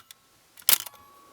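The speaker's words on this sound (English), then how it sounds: "Metal shutter, so it's nice and accurate." A Pentax ME film camera's metal shutter fires once: a single crisp mechanical snap with a short trailing rattle, close and clear in an otherwise quiet room.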